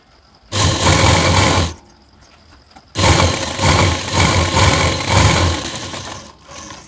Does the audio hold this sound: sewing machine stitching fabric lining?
yes